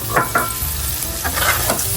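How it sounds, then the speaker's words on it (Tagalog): Onion and garlic sautéing together in a pan, a continuous close sizzle with a few scraping stirs of the spatula. "Ginigisa ko na siya sabay."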